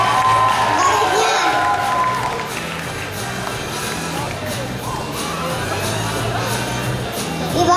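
At a children's beauty pageant, a crowd in a hall applauds and cheers continuously. The clapping and shouts are loud and dense, with children's voices mixed in.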